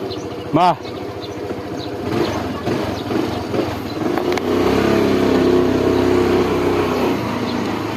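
A motorcycle engine revs up and holds a rising, buzzing drone nearby, with a short sharp whoop at the start and voices in the background.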